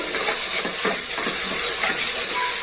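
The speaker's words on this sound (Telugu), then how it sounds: "ఇప్పుడు ఇదంతా బాగా వేగించాలండి" Ginger paste and salt being stirred and fried in a hot pan for an Andhra-style mutton and potato curry: a steady, loud sizzle with scattered scraping clinks of a spoon against the pan, no talking.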